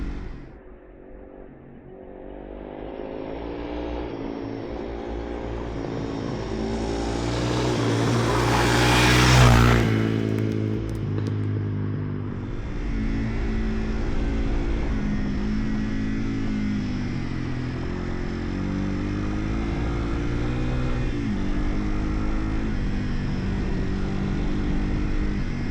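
A Yamaha TW200 motorcycle rides a loose, marbly dirt road, its single-cylinder engine droning steadily and close for the whole stretch, with a brief rise and swell of revs partway through and no talking.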